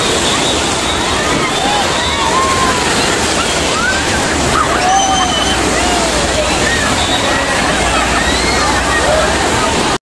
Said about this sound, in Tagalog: palakas ng palakas yung alon dito sa pool